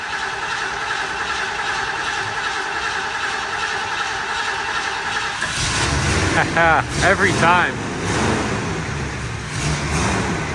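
An all-original crew cab truck that has sat unstarted for months cranks and fires up. Its engine catches about midway and runs steadily close by, and someone speaks briefly over the running engine.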